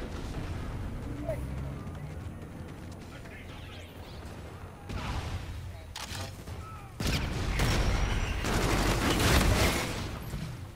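Video game combat with grenade explosions and gunfire: muffled booms and bursts of rapid shots that grow louder and denser toward the end, with brief voice chatter mixed in.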